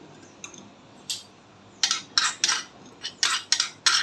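Appe batter mixed with fried vegetables is stirred in a bowl, giving a close series of quick, sharp spoon clinks and scrapes that start sparse and then come in a rapid irregular rhythm.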